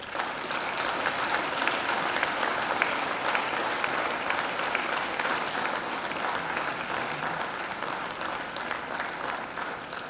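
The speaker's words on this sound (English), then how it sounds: "And now I invite you to give them a mighty round of applause." Sustained applause from a large crowd at a university graduation ceremony, as graduates applaud their families and friends; dense, steady clapping fills the hall for the full length at an even level without speech.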